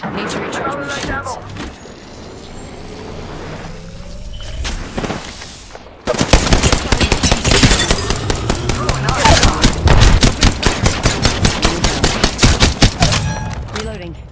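Gunfire in Apex Legends Season 11, played as Wraith on a Nintendo Switch OLED. A quieter stretch with a voice and game sounds gives way to loud, rapid automatic bursts that rattle on densely until the end.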